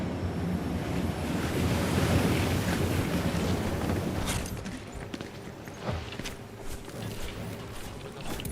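Ocean waves washing and surging in Genshin Impact, a broad steady wash with wind-like hiss, swelling then easing, with faint clicks later and no voices.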